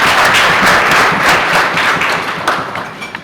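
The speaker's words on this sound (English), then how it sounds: "Can we give our patron a bigger clap?" An audience at a banking and finance institute's graduation ceremony applauds the patron with dense, sustained clapping that holds steady for about three seconds before thinning slightly at the end.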